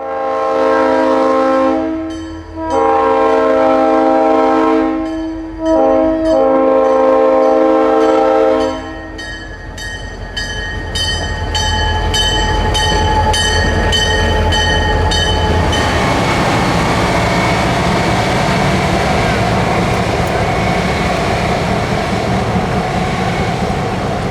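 A train horn blasts several times loudly and close, then a passenger train led by locomotive 1030 rumbles past through town buildings with steady rolling wheel noise.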